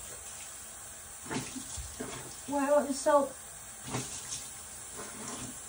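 Hot tap water runs steadily during a face wash, a moderate hiss continuing under a few spoken words and some brief vocal sounds.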